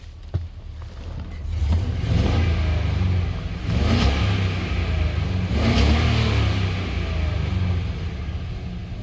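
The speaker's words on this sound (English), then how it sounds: "Let me rev it up for you so you can hear it." The engine of a 2003 Chevrolet 1500 Crew Cab pickup, which has a bad transmission, is revved three times in succession; each deep, loud rise swells and falls back to a rumbling idle, close by, with no talk.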